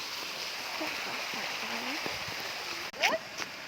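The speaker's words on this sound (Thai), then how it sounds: "ว้าว น้ำตก" A zoo waterfall pours down in a steady, broadband rush of falling water, loud and continuous throughout, with voices and a brief exclamation breaking in near the end.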